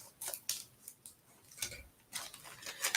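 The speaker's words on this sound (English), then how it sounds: "I always like to do this with scissors rather than a box cutter" Scissors snip open the factory seal on a large lot of sealed video games, giving several separate sharp cuts and crinkles close to the mic, spaced unevenly across a few seconds with no talking.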